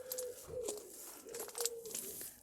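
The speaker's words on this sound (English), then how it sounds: "And hear the pigeons." Pigeons cooing in a garden, several soft, low repeated coos at a moderate distance, with faint rustling and outdoor background noise.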